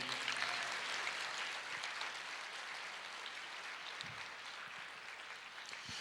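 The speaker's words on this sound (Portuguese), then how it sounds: "Aplauda o Senhor" A church congregation applauds, a steady wash of many hands clapping at moderate distance, gradually thinning toward the end with a few isolated claps.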